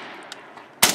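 A rifle shot cracks loudly near the end of a short stretch of outdoor background hiss at a backyard shooting session, with a sharp blast and brief ringing tail. The shooter has been aiming at potatoes as targets.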